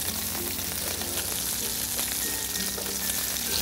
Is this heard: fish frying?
yes